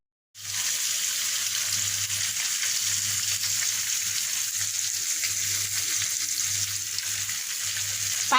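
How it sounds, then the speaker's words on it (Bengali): Onions sizzle in a wok after fish has been fried, a loud, continuous close hiss that starts abruptly and holds steady, with no one talking. "এখন একটা কড়াইতে পেঁয়াজ দিয়ে ভেজে নিচ্ছি"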